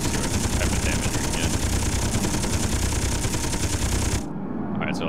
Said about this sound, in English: That was probably like 30 seconds of sustained gunfire just going around it